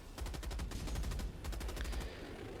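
A heavy machine gun fires in Helldivers 2, rattling off rapid bursts of shots in quick rhythmic succession, fairly faint with a short pause between bursts.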